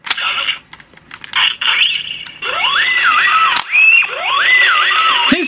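Kamen Rider Kiva's transformation sound effect: bright electronic chirps and warbling, sweeping synthetic tones, repeated twice after a few short clicks, loud and close.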